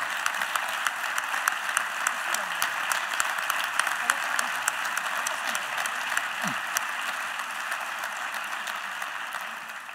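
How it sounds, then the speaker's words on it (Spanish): Audience at a Podemos political autumn university event giving sustained applause: steady, even clapping at moderate distance for the full duration, tapering slightly at the end. "un gran aplauso"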